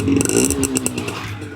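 A motorcycle with a stock exhaust runs close by, its engine putting out a short, uneven burble with a few sharp clattering ticks, fading slightly toward the end.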